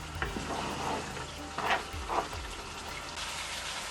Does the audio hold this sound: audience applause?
no